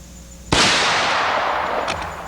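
Another .44 Magnum revolver shot on an outdoor range, a single sudden deafening crack followed by a broad, sustained echoing tail with a faint clink near the end.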